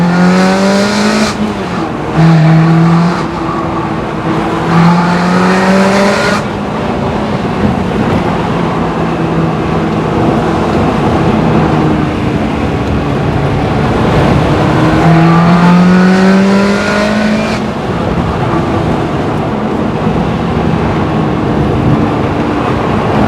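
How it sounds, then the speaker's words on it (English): Ferrari 360 Spider F1 with original exhaust accelerating hard from first gear, loud close engine revving in repeated rising sweeps broken by gear changes, with a steady engine roar between pulls. "let me really open up this F1 360 and see how it goes"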